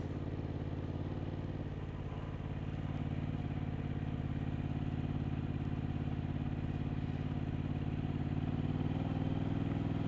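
A Yamaha MT-07 motorcycle engine runs steadily in first gear at constant throttle, a loud continuous low rumble with jittery pulsing throughout, heard up close from the rider's position with no talk.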